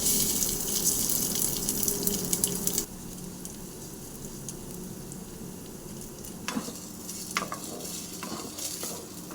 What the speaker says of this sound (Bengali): চালটা এবারে আমি 2 মিনিটের জন্য ভালো করে ভাজবো